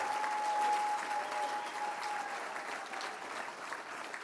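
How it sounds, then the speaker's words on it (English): Audience at the Moms for Liberty Summit 2024 applauding a lawyer, a sustained wash of clapping from a large crowd, fairly distant and even, with a faint steady tone running beneath. "Let's give applause for Harmeet Dillon"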